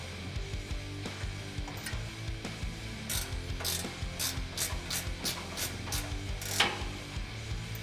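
A ratchet tightens a 15mm bolt on a Barricade HD off-road front bumper fitted to a 2016-2018 Chevrolet Silverado 1500. Rapid clicking bursts repeat steadily and close up over a low mechanical hum, with no talking.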